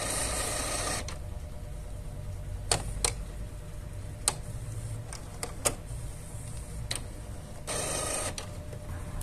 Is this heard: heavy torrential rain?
no